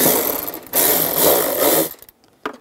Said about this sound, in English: Use a 10 millimeter socket, take that off.